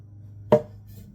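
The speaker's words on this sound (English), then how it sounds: "When in doubt, go with the bigger hammer." A single sharp hammer tap on a wooden dovetail joint as it is driven together, one close, crisp knock standing alone over a low steady hum.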